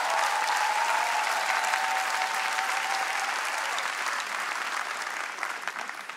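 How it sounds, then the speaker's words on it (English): A church congregation applauds in a dense, sustained roar of clapping that starts at full strength and slowly tapers over several seconds, with a faint sustained tone underneath. "Why don't you just give the Lord a clap because he's brought people."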